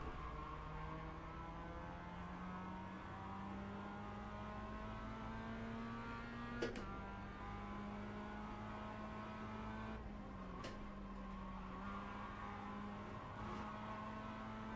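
A Mazda MX-5 race car in the iRacing sim with sequential shifting, its engine note climbing steadily through the revs and dropping briefly at gear changes, faint and even throughout.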